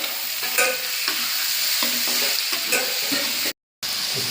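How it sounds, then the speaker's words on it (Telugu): Chopped onions and tomatoes fry and get stirred in a hot pan, giving a steady loud sizzle with scraping stir strokes and a brief dropout near the end; no voices. "ఎర్రగడ్డ బాగా కాలిన తర్వాత దానిలోనే టమాటాలు కూడా వేసి బాగా వాడుకోవాలండి"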